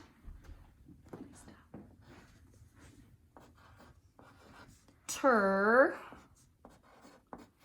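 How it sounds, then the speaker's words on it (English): A pencil scratches across paper during a classroom writing lesson, in a run of soft, irregular strokes heard up close, with a quiet voice speaking over part of it. "I know that I can write the word yes"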